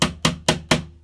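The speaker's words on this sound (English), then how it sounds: "there's nothing better in this world than just hammering" Four sharp hammer blows at an even, brisk rhythm while assembling flat-pack furniture, loud and close, each strike ringing briefly before the next.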